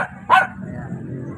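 A single short dog bark, near and fairly loud, over low street background noise at night.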